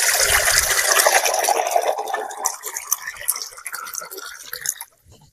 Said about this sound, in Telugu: ఇప్పుడు నీళ్ళు అయితే పోసుకున్నాం కదా.